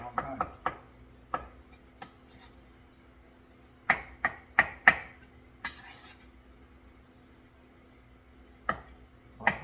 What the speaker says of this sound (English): this is a pain in the ass cutting egg